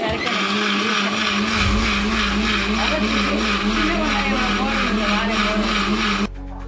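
A mixer grinder grinding masala for chicken curry whirs loudly and steadily for several seconds with a constant motor hum, then cuts off abruptly near the end.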